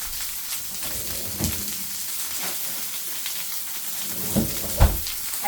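Steak frying in a pan with butter and herbs, giving a steady, continuous sizzle with a few soft pops and crackles, close and alone.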